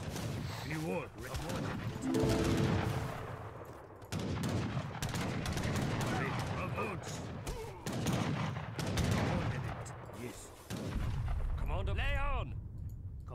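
Rocket artillery firing in Age of Empires III, a dense run of loud, overlapping game-battle blasts and whooshing launches that continue through most of the stretch, with someone talking over the action.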